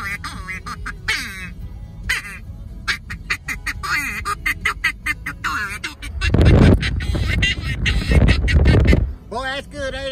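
A man imitates a blue-winged teal duck call by voice, producing rapid, repeated quacking bursts close up. A loud, dense stretch of calling builds midway and then breaks off, with some talk nearby.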